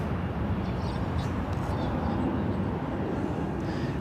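An EVA Air Boeing 777-300ER arriving at LAX from Taipei makes a steady, broad engine roar that holds evenly throughout, heard from some distance in open air.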